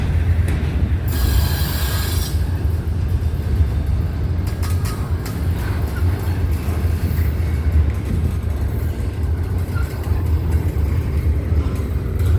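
A CSX double-stack freight train rolls past on the Lineville subdivision, a steady, loud rumble of wheels and cars with occasional metallic clanks and a brief high squeal near the start.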